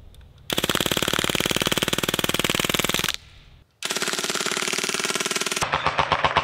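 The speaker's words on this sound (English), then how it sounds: "It's cool because it's like an open bolt machine gun." A CO2-powered full-auto BB gun fires magazines at a target. Each burst is a loud, rapid, continuous rattle lasting a few seconds, with a short pause between the bursts.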